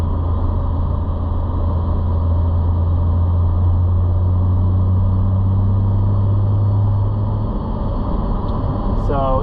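BMW M2 fitted with a Valvetronic Designs full exhaust cruising at 45 mph, a steady low engine drone and road rumble inside the cabin, constant and fairly loud with a brief shift in tone near the end.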